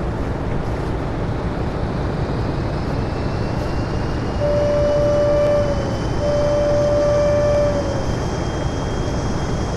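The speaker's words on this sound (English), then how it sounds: "That engine is one loud" A steam locomotive engine in the Train Sim World game roars with a dense, steady rumble throughout, and two sustained whistle-like tones sound midway over the loud continuous noise.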